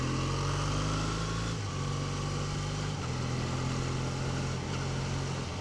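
A 2014 Triumph Bonneville motorcycle engine drones loud and steady while riding, its pitch dropping in distinct steps as the rider shifts gears, with wind rush throughout.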